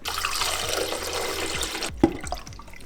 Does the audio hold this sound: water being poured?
yes